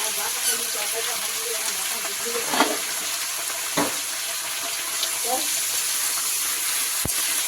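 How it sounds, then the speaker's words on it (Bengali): Tomatoes and green chillies fry in a hot pan for chilli chicken, giving a steady sizzling hiss with a few louder bursts of stirring and clatter, fairly close and continuous. "আগে টমেটো দিচ্ছি আর একটু কাঁচা লঙ্কা দিচ্ছি"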